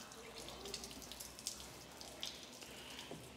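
Raw, untreated water runs from a tap at a filtration train in a food products factory, a faint steady splashing flow with small irregular drips and spatters throughout.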